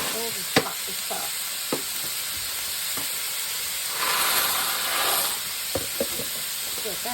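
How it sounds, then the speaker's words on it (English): Pasta dumped into a pot of boiling salted water, a steady hiss and bubbling with a rush around the middle and a few light knocks, while a person talks. "now I'm gonna dump my pasta in"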